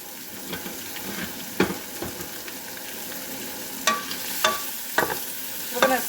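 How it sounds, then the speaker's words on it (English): Andouille sausage, bell pepper and onion sauté in a pan with a steady sizzle, broken by a handful of sharp scraping stirs of the spatula against the pan. No one speaks. "We're going to saute it up"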